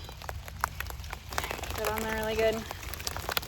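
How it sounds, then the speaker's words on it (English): Light rain spitting down outdoors in a garden, a soft patter of drops on surfaces running steadily through the clip beneath close talking and some handling noises. "It's also spitting rain, so we'll see."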